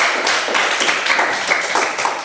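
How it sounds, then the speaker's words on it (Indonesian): A classroom of students claps hands together in a short, loud burst of uneven, overlapping claps. "tepuk tangan dulu untuk kita semua"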